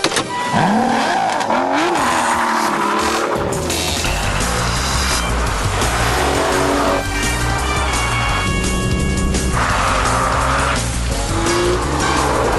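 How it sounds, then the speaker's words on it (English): An Aston Martin V12 Vantage engine starts and revs, a loud, dense roar that holds steady and near throughout, rising and falling with the throttle. "and then start the engine"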